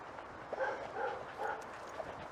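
A dog gives several short, close yips and soft barks during treat training. The sounds come in quick bursts over about two seconds, with quiet pauses between them.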